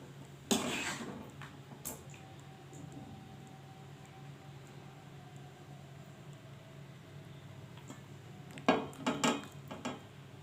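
Aloo matar curry being served into a dish, heard as a few close clinks and scrapes of a spoon against pots and plates with a quiet hum in between.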